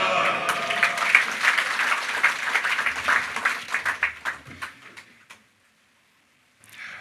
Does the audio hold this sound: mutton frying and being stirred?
no